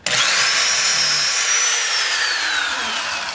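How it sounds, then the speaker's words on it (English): A power drill whines steadily and loudly through the whole stretch, its pitch sliding slowly downward as it bores a binding heel hole into a ski. "drill your first heel hole."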